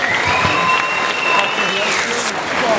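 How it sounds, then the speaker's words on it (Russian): Dense applause from a crowd at a 2015 WRPF world powerlifting championship, loud and steady throughout, with a few voices mixed into the clapping. "ваши аплодисменты Эрику."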